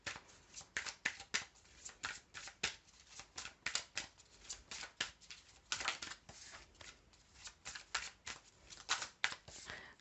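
A deck of feeling cards is shuffled by hand close up, giving quiet, quick rhythmic flicks and riffles that keep going alone.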